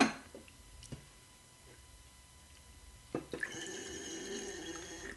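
Red wine pours through a wine aerator, starting as faint dripping and ticks and then turning into a louder gurgling, bubbling stream near the end.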